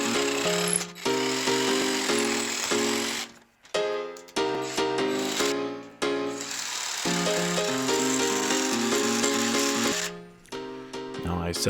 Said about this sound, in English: use a jigsaw in order to cut that